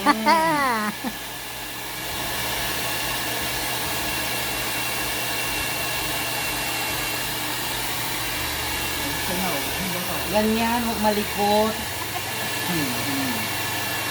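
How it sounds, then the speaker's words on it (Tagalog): A hot hair dryer runs steadily on a woman's hair during a rebonding treatment, a continuous loud whooshing roar lasting throughout, with people talking over it. "Ay, talagang mainit yung blower para madali, ano."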